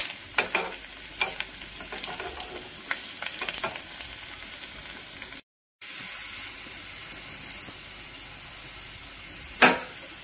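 Garlic and red chili powder masala sizzle in hot oil for palak paneer, heard as a steady soft fry hiss with spoon stirring clicks and scrapes, a brief dropout midway and one sharper clink near the end, with no talk.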